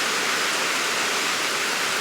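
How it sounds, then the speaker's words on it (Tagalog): Heavy rain pours steadily with a dense, unbroken hiss that fills the whole clip at an even, loud level, with no voices. "Kaya sana ay tumigil ang ulan kasi kawawa talaga."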